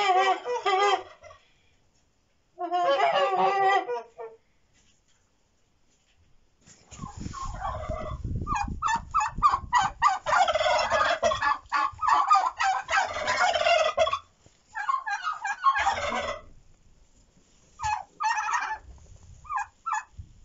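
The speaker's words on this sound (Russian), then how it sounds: "Как обычно говорят, важный гусь." Loud honking goose calls in bursts, some short and separate, others in long noisy runs with rustling and movement around them, close to the microphone with no talk.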